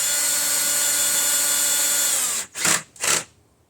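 A power drill runs steadily for over two seconds driving screws into a studio equipment rack, then gives two short loud bursts, close and alone with no talking.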